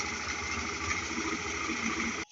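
A homemade buggy engine idles close by with a steady low chugging pulse and a faint rattle, running alone until it cuts off abruptly at the very end.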